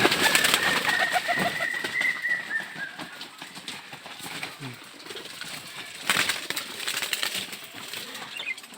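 Farm pigeons gather close by, low cooing mixed with bursts of wing flapping and shuffling, fairly loud and continuous.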